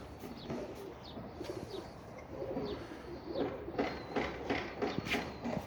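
Tumbler pigeons cooing and fluttering nearby, soft repeated coos with occasional wing flaps, fairly quiet and without talk.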